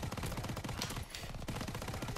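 Call of Duty: World at War gameplay with a single-fire gun. Dense, rapid gunfire-like bursts carry steadily through the short clip, loud and busy with little pause.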